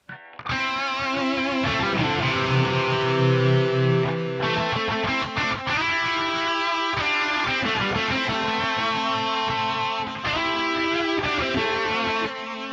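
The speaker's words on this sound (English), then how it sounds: "I might actually use a distorted sound here just for a change" A heavily distorted electric guitar through an Axe-Fx III pitch block with a warbling, pitch-shifted effect plays sustained chords, loud and steady throughout with a few changes.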